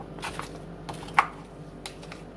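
A spoon stirs a salt and pepper seasoning mixture for a meatball sandwich casserole, making quiet, close, irregular scrapes and soft taps against the bowl with one sharper clink and no talking.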